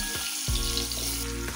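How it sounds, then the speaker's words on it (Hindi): Figs drop into hot ghee in a pan on the stove and set off a loud, close, continuous sizzle, with a sharp burst as they hit the fat. "अब मैं इसमें अंजीर डाल लूंगी, धीरे से डालूंगी, घी है तो उड़ जाएगा।"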